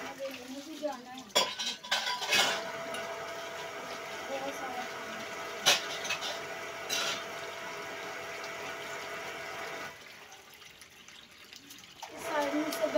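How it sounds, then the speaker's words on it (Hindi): Dishes, pots and pans are washed by hand under a running water tap in a village home: steady splashing water, with clinks and clatters of metal utensils near the start and end, under a woman's occasional speech. "पहले बर्तन धो लूँगी"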